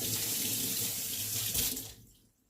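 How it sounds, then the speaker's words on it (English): A kitchen tap runs at full flow as a measuring cup is rinsed under it, a close, steady splashing hiss that cuts off abruptly near the end. "let me rinse this out. We'll just reuse the measuring cup."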